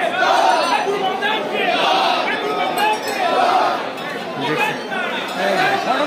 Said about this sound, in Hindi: तारापीठ में भीड़ देखो गाइस, देखो चिल्ला रहा गाइस, चिल्ला रहा भीड़ देखो